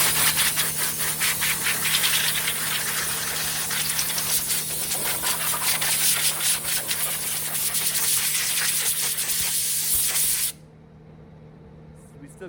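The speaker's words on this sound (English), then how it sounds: "I like to follow it up with compressed air." Compressed air blows across a car engine mounted on a stand, making a strong, fluctuating hiss with short pulses. The air stops abruptly and leaves near silence.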